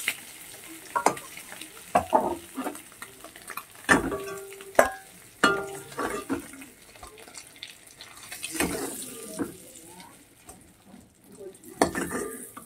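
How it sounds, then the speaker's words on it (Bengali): Duck eggs frying in oil in a pan with a steady sizzle, punctuated by scraping and clinks of a utensil against the pan. "লাল লাল করে ভেজে নেব ডিমগুলোকে"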